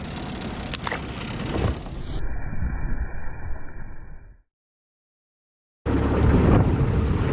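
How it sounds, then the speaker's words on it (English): Strong winter wind buffets a lake shore, a loud, rumbling roar of gusts that cuts out abruptly partway through, then returns just as hard. "the wind is insane back in here"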